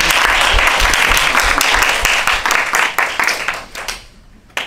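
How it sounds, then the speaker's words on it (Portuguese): Close, loud group clapping for a participant just brought out of hypnosis in a past-life regression session, lively at first, then thinning and fading to near silence before a last clap. "Palmas pro Arthur."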